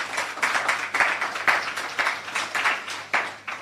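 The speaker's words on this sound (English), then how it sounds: "We need to clap for that." An audience at a Jamaican government STEM scholarship programme launch claps in a steady, fairly dense wave of applause that rises and falls slightly, with no talking over it.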